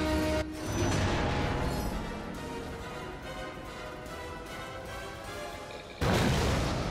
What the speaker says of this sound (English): Wow, they just had a bomb on board the whole time?